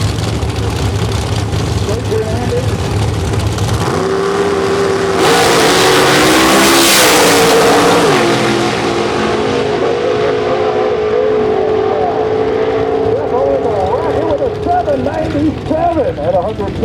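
A 2002 Chevrolet Camaro nitrous drag car races down the strip, a loud engine roar that swells and then fades into distant crowd and track noise as a voice talks over it.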